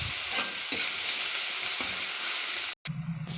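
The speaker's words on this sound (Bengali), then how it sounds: "তারপর দিয়ে দেবো নারকেল কোড়া" Grated coconut sizzles in butter with panch phoron in a pan while being stirred, giving steady close frying hiss with spatula scrapes, then a sudden cut to a quieter low hum near the end.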